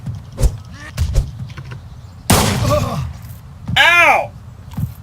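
Gunfire in the survival game DayZ: a sharp broadband shot-like burst followed by another loud blast, with pained groans and gasps from a man between them, all under speech-heavy game chatter.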